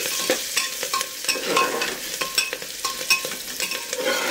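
Khichuri being stirred in a pan with cumin powder and chili, a spoon scraping and turning repeatedly over a continuous sizzle, close and fairly loud with no voices.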